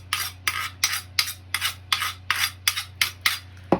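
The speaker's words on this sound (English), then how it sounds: "Just using some stainless steel part of a knife here to dull it up a bit" Kitchen knife blade scraped with a stainless steel knife edge to dull it: about nine evenly spaced rasping strokes in a steady rhythm, close and distinct, over a low constant hum.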